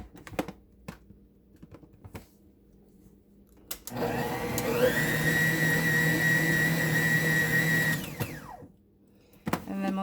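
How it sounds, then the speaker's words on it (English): A Nutrimill mixer motor whirs up and runs steadily for about four seconds, giving sugar cookie dough a quick stir, with soft kitchen clicks and knocks before and after. "I'm going to go ahead and give that a quick stir just to make sure."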